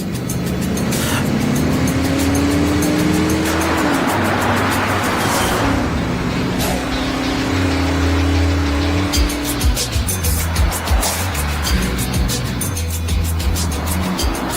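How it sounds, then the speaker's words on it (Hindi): A car accelerating hard, loud engine drone rising in pitch with gear changes and a brief tire squeal, sustained close up over the whole stretch. "चलो गाड़ी तेज भगाओ।"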